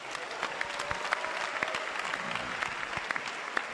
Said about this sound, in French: Applaudissez pour McDonald's.